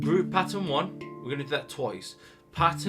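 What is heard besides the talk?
No distinct noise like a dog, phone or traffic.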